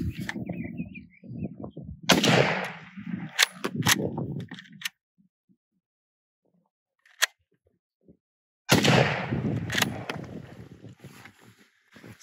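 A Sommer & Ockenfuss straight-pull bullpup rifle fires one sharp, isolated shot, preceded by mechanical handling clicks and followed later by louder rustling and clatter.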